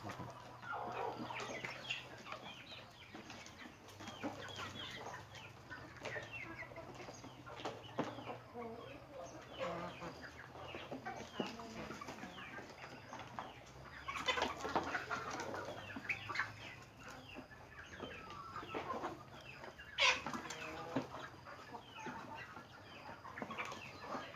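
Quiet, continuous clucking from a flock of about four-month-old free-range chickens eating, with occasional wing flaps and scattered pecking, heard over a low background hum.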